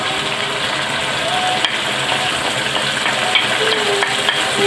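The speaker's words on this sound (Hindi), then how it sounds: "ऑयल के अंदर गोश्त को अच्छी तरह से भून लेंगे।" Beef sizzles steadily in hot oil with garam masala, coriander and red chilli powder, a dense even frying hiss with faint stirring scrapes underneath.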